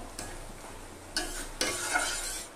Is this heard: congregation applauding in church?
no